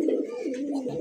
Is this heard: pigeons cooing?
yes